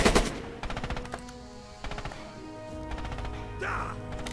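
Machine gun fire in the Red Orchestra 2 video game, loud bursts of rapid shots in several short volleys with brief pauses between, close and sharp, ending with a whooshing tone.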